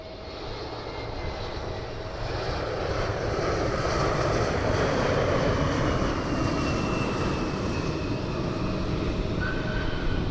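Embraer E-175 jet airliner approaching to land at Cleveland Hopkins, a steady broadband engine roar that swells louder after the first two seconds and holds, close and continuous, with no talk.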